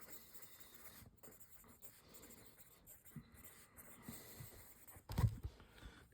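Pen writing an equation by hand on paper, faint close scratching strokes in short irregular runs against quiet room tone, ending with a soft thump.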